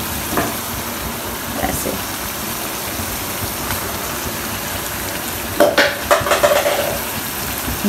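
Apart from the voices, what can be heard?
halved tomatoes placed cut-side down sizzling in karahi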